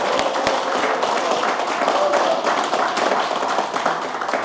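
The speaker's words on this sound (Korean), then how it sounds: "여러분들 정말 우리 고성국 박사님에게 박수 한번 보내주세요" A crowd at a Daegu political campaign rally applauds for a guest speaker: a dense, continuous wash of clapping and cheering that stays loud throughout.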